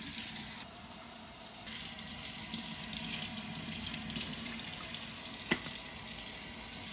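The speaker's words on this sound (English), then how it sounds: "So this is where I rinse the meat individually" Tap water runs steadily into a kitchen sink as pieces of goat meat are rinsed one by one, a constant close splashing gush at moderate level with a faint clink partway through.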